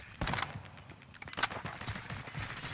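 Gunfire in the shooter game Warzone, a burst of sharp shots near the start and another loud cluster midway, with continuous crackling game noise in between.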